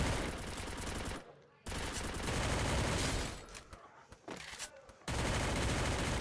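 Rapid automatic fire from an M10 gun in a squad-match video game, loud dense bursts filling most of the span with brief pauses between volleys.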